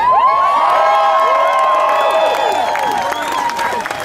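A large political rally crowd in Canada roars with sustained cheering, whoops and shouts, loud and dense throughout, easing slightly toward the end.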